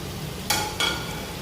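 A spoon stirs a nihari masala mixture of chilli, salt and cardamom in a pan, two quick close scrapes over a low steady background hiss.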